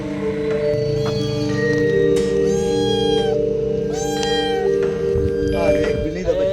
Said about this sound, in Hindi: एक बिल्ली दा बच्चा